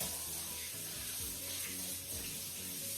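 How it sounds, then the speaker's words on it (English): Water running from a kitchen tap as hands are rinsed while making meatloaf, a steady, fairly quiet hiss with a low hum underneath and no talking. "And I'm over here rinsing my hands"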